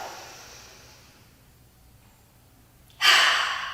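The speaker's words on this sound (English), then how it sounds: "Breathe in nasal." A sharp nasal inhalation during yoga breathing practice, a loud breath drawn in through the nose near the end after a fading exhale and a quiet pause.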